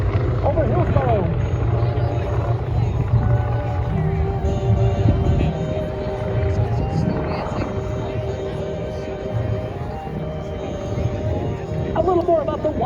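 Grumman Wildcat warplane flying at an Oregon air show, a loud continuous propeller engine drone with shifting pitch filling the whole stretch, heard over crowd ambience and a public-address announcer's voice.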